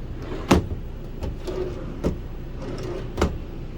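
Drawers slide along their runners and bump shut several times inside a 2007 Georgetown 350DS motorhome, close by, over a constant low background hum.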